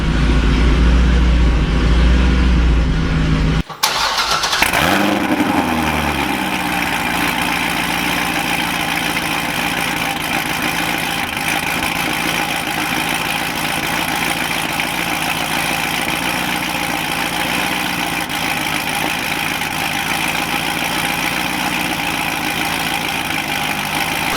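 A Corvette C6 V8 fitted with longtube headers cranks and fires on its first start after installation, a brief loud starting burst settling into a steady, deep, throaty idle that carries on evenly and close.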